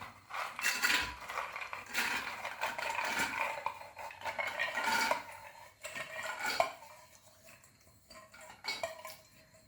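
Dried vanapayar beans go into a pressure cooker, with steady clattering and rattling of metal for several seconds that fades toward the end. Close and fairly loud, no voices.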